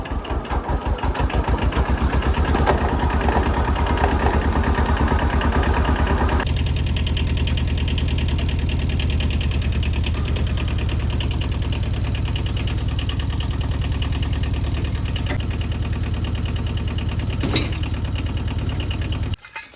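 A Kubota L175 compact tractor's diesel engine runs steadily in third gear, loud and close, with a dense low drone and a rhythmic mechanical chug that eases slightly partway through and continues alone without talk.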